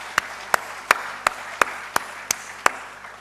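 Clapping for honourees at an award ceremony comes as eight crisp, evenly spaced claps about a third of a second apart, close and distinct over a quiet room hum, then stops.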